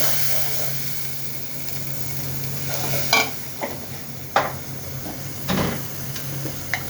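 Onion, ginger-garlic paste and turmeric masala frying in a pan, a low steady sizzle broken by a few sharp scraping stirs of a spatula, close by with no voices.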